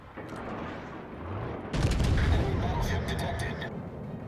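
Naval gunfire in World of Warships, a loud broadband blast kicking in around the midpoint and rumbling on to the end, layered over continuous game ambience with talk underneath.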